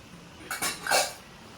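Old brass puja vessels knock and clink together in two brief, close metallic bursts while being handled, with no talking.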